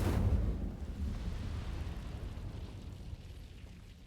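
A fire spell, Incendio, cast in the video game Hogwarts Legacy, bursting out with a deep whooshing roar that starts loud and slowly fades into a rumbling crackle over several seconds, with no talking.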